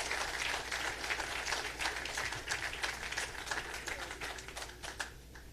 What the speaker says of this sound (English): I think that the panel deserves a very proper round of applause.